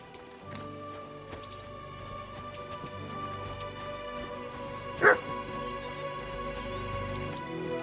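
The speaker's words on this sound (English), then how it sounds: "Barking." In Kingdom Come: Deliverance II, a single short dog bark rings out at mid-distance over a steady ambient game background, with no talk.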